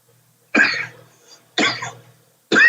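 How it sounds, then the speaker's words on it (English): A person coughs harshly three separate times after smoking weed, with short silent gaps between the close, loud bursts. "I'm coughing every time."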